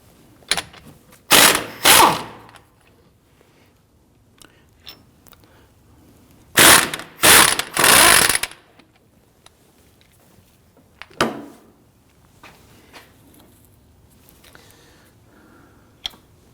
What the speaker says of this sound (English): we're going to loosen and remove our two 17mm bolts.